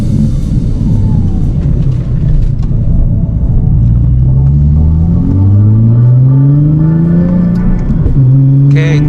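A Nissan car drives with a loud, close engine drone, its pitch sweeping upward repeatedly through gear changes over a heavy low rumble.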